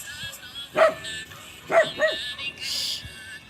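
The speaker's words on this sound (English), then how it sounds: "sorry, my grandma's dog." A household dog barks indoors, three sharp barks at moderate distance, the first alone and the other two close together, followed by a brief whimpering yip.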